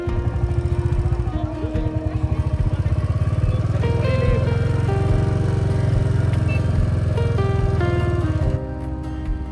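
A motorcycle rides a mountain road beyond the Atal Tunnel in the Lahaul Valley, its engine droning steadily and close throughout, with the tone shifting as it changes speed, before the sound drops away near the end.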